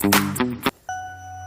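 A short electronic ringtone chimes, clear tones with a sustained ringing note trailing after, close and fairly quiet.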